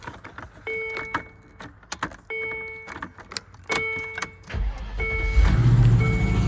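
A 2003 Land Rover Discovery 2 gives repeated chimes and clicks as the key goes in and turns, then the engine cranks and catches into a loud, rough idle near the end.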